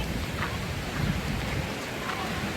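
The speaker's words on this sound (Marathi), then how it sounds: "पाऊस बघा काय खतरनाक पडतोय." Heavy monsoon rain pours steadily at a waterfall spot, a dense, unbroken hiss filling the scene from start to finish, with no talk heard.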